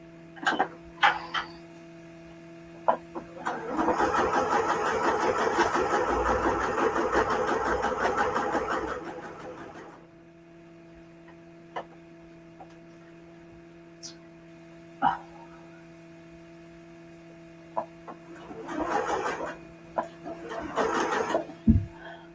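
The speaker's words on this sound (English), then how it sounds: "Okay, press that one. And we sew the Easter eggs." A sewing machine stitches Easter egg shapes in a loud rapid burst of about five seconds, followed by quieter pauses with faint clicks and a couple of shorter stitching runs near the end over a low steady hum.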